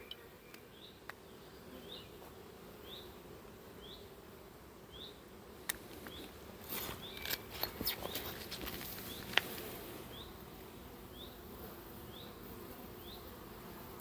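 Honeybee colonies at hives in an apiary, a faint, steady buzz with individual bees zipping past, a bird chirping repeatedly in the distance, and scattered clicks and taps midway.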